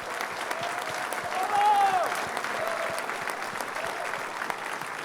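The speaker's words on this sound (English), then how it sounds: "Let's really applaud for them." Audience applause fills a hall at the 28th Annual Thea Awards ceremony, a steady wash of many hands clapping at moderate distance, swelling slightly midway, with a brief whistle or cheer rising above it.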